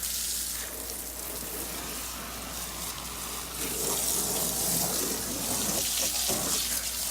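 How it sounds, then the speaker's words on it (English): Water from a hose rinses steadily over a car wheel and tire, a continuous hiss and splatter that grows a bit louder and busier partway through, with no talk. "now either power washer, hose, whatever you want, rinse it on down"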